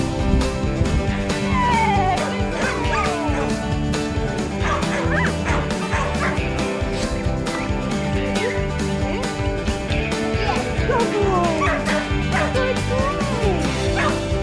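A pack of dogs at a doggy daycare yips, barks and whimpers nonstop in a loud, dense chorus that fills the whole stretch, with an occasional voice buried in the din.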